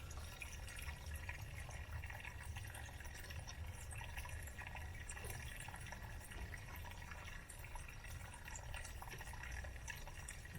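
Steady running water beside a wooded hiking trail on the Nat Greene Trail in North Carolina, a continuous close rushing and trickling that holds an even level throughout with no voices.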